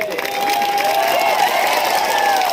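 Crowd at a political mass gathering applauding and cheering, a broad steady roar of clapping with a sustained whistle or tone riding over it, loud and continuous.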